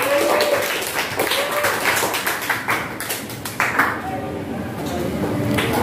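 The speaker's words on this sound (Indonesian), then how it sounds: "Tepuk tangan untuk teman-teman" Classmates in a classroom give a short round of scattered clapping after a group presentation, with sharp close claps mixed with talking voices.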